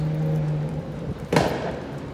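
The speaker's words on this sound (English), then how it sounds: "Oh, I hate cars that sound like that, bro." A car passing on a street during a dog walk, a low engine drone giving way to a brief loud whoosh as it goes by, then fading.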